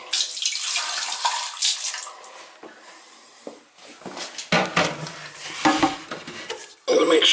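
Water gushes from several open faucets into drains in a large summer home being winterized, a steady rushing spray with splashy surges and a few knocks, fairly close, no talking.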